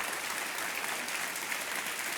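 Studio audience on a TV quiz show, Kaun Banega Crorepati, breaks into steady, sustained applause, a dense wash of clapping with no pauses or voices throughout.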